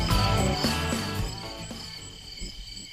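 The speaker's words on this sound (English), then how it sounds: "Oh, there's a cricket sound." Crickets chirp in a steady high trill, played as a sound effect on a country radio outdoors show, layered over dense background music and sounds.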